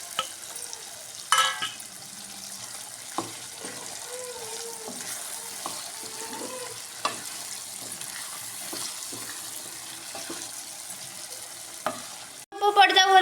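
Indian gooseberry pickle mixed by hand in a pot, with faint intermittent scraping and clicks over a low steady background, then a louder burst of clatter at the very end.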